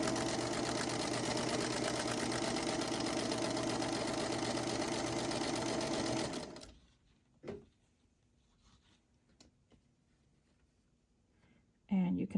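A sewing machine stitches a quilt block for a birthday cake sampler at a quarter-inch seam, a steady loud whirring run for about six seconds that stops abruptly, followed by quiet with a couple of small clicks and a brief noise at the end.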